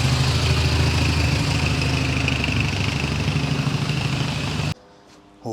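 A fully warmed-up Triumph Bonneville motorcycle idles nearby with a steady, rough, low throb that sounds uneven. It cuts off abruptly near the end.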